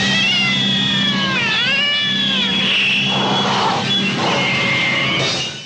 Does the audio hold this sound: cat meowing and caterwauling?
yes